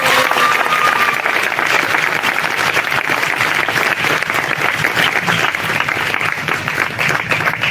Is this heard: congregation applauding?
yes